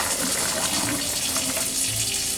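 Fresh water pours steadily into a pot of beans for a traditional Southern supper, a continuous close gushing splash with no talk.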